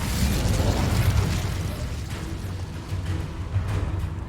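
The Incendio fire spell is cast in the Hogwarts Legacy video game, giving a loud, sustained roaring burst of flame with a deep rumble that fades slightly toward the end.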